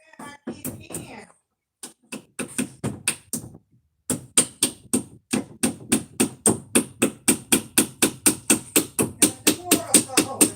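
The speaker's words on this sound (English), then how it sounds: "You're in there doing all that hammering." Hammering indoors at home, a long run of sharp, evenly paced blows that starts after a few scattered hits and a pause, then settles into a steady rhythm, fairly close and loud.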